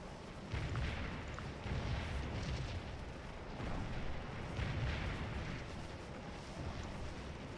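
Civil War cannons fire in a Gettysburg battle in Scourge of War, several booming shots spaced a couple of seconds apart, each a low rumbling blast rolling away at a steady distance.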